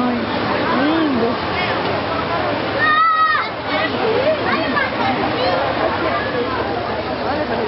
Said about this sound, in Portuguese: Essa cascata é super fácil de fazer